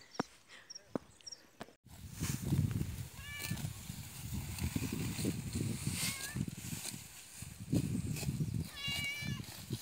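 A stray cat meows several times, short rising calls that stand out over a background of wind and rustling on a farm in northeastern Brazil, with faint movement nearby.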